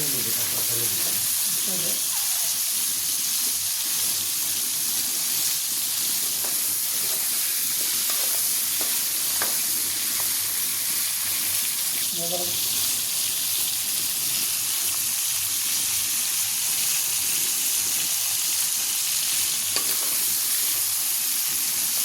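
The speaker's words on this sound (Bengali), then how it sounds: "কাঁকড়া ফ্রাই করা হচ্ছে।" Sea crab fries in a pan with onion, cinnamon, cardamom and bay leaves, a loud continuous sizzle and steamy hiss with occasional stirring scrapes, sustained and close.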